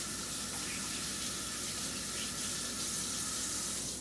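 Running tap water pours steadily into a sink as egg yolk is rinsed off hands, a continuous, even hiss and splash with no talking.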